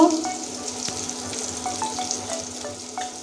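Potatoes fry in a pan with chopped onion, garam masala, chilli, ginger-garlic and cumin paste and a pinch of salt, giving a steady close sizzle with scattered crackles and light clinks.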